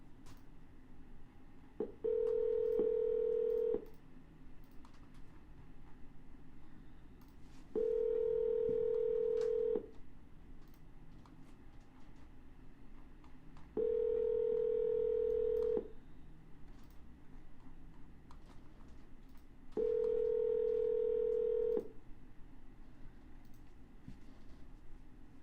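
A phone dials out again during real estate cold calls, sounding four evenly spaced bursts of ringback tone, each about two seconds long, separated by pauses over a low background hum.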